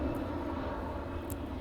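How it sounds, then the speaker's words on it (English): A low-flying Navy airplane passing overhead near a Navy base, heard as a steady low engine roar filling the background, fairly loud and continuous. "now I've got a very low airplane"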